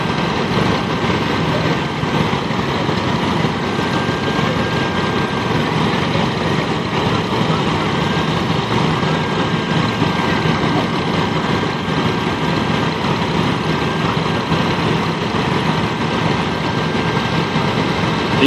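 A 1956 4MO Cub antique tractor idles and rolls along in a farm expo parade, its engine a steady, loud, continuous drone with a broad rumble and no break throughout.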